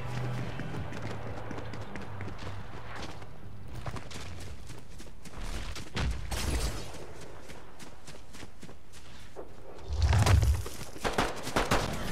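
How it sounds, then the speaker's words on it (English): Sharp, scattered gunshots crack at intervals in the game Fortnite, a few single bangs and a louder burst near the end, over a busy rumbling game backdrop with shuffling movement. "we got gunshots coming from the right."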